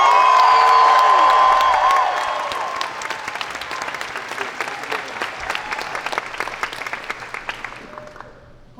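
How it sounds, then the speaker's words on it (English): A convention panel audience in a packed room breaks into loud applause and cheering, whoops rising over steady clapping that gradually thins and fades toward the end. "And finally, make some noise for Mr. Charles Gray."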